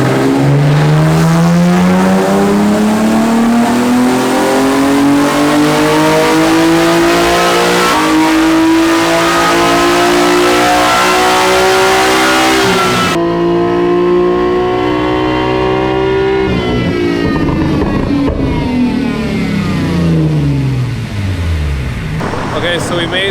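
A Nissan 370Z engine on a dyno running without nitrous, loud sustained pulls that climb steadily in pitch, one full pull then a second rising run after a brief drop, roaring close and continuous.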